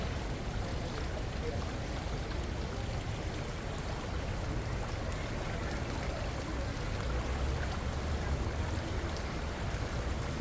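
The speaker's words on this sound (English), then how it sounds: "I like the sounds of the river." A river in Bosnia flows in a steady, unbroken wash of water noise, constant and moderately loud throughout, with no clear speech on top.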